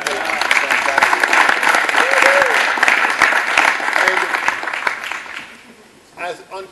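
Loud, close applause from an audience fills the room for a mallet player after her performance, with voices and cheers woven through the clapping before it fades out and a person briefly speaks.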